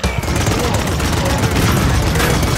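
A dense, loud barrage of gunfire in the video game Paladins, rapid overlapping shots and booms packed into an unbroken burst.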